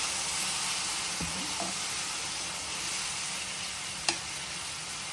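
Grated carrots for gajar ka halwa fry in a pan with a steady, even sizzle and hiss throughout, while a utensil gives a couple of faint scrapes and one sharp tap against the pan.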